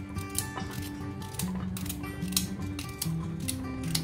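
Radish being chopped into small pieces with a knife on a board for a low-oil mooli sabzi, a steady run of close, crisp cutting clicks and taps with a faint low hum beneath.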